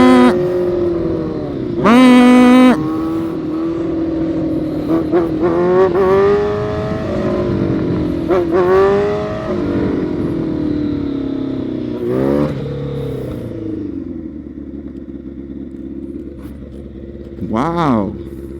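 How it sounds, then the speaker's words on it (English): Motorcycle engine revving and whining as the bike is lifted into a basic wheelie, rising and falling pitch sweeps with a sharp high rev near the start and another at the end, heard close under someone talking. "When you can make your bike whine"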